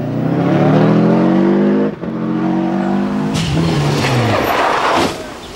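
A Ford Sierra rally car, modified and struggling, at a 1992 British Rally Championship stage, its engine droning and revving hard, dropping briefly, then pulling away with tyre scrub and fading.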